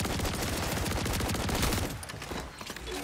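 Rapid, dense gunfire from a heavy gun in a video game, a loud continuous burst that cuts off partway through, leaving a quieter rumbling tail.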